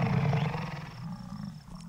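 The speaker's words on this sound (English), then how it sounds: "the prairie rumbles with the roars of the mighty bison bulls." American bison bulls roar across the prairie in the July rut, a deep, loud bellowing rumble that swells at the start and fades into a lower, rougher growl.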